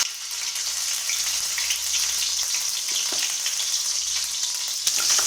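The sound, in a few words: ginger garlic paste frying in oil in a pan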